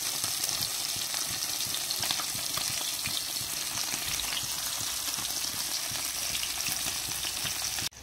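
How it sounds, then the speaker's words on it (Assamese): Fish frying in hot oil in a wok, a loud, dense, continuous sizzle and crackle held close to the pan throughout. "মাছকিটা মই বাছিয়ে তেলত এইফালে ফ্ৰাই কৰিয়ে দিলো"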